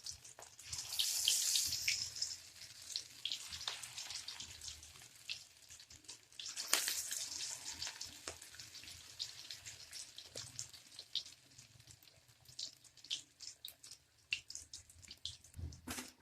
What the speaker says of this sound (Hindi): तो गोभी के जो पकौड़े हैं वो बहुत अच्छे से बन रहे हैं